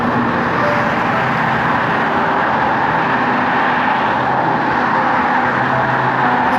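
Fast cars on a Norwegian road passing a cyclist on a climb, heard as a continuous, loud roadway roar with wind noise and no clear individual pass-by.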